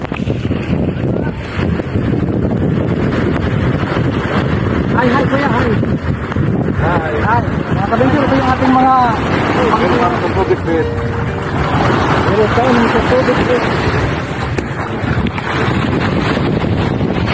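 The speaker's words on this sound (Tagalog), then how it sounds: "Ngayon naman tayo sasakay ng bangka." A boat crossing open water toward an island off Matnog, Sorsogon, with steady loud engine and water rush, strong wind buffeting the microphone, and people talking over it throughout.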